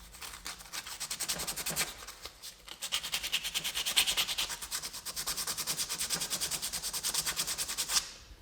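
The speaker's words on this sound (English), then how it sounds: "Taking some sandpaper, trying to sand some of that corrosion off of this lead" Sandpaper scrubs corrosion off a battery tender quick-disconnect lead in quick, rhythmic rasping strokes, close and fairly loud, with a brief pause partway through.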